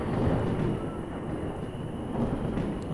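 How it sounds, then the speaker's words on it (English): A heavy thunderstorm in the village-building game Life Is Feudal: Forest Village, a steady, loud wash of rain and low rumbling with no breaks, heard alone. "Another really bad thunderstorm."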